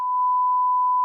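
A single steady censor beep, a pure tone held loud and alone for about a second, dropped over a spoken word in casual chat.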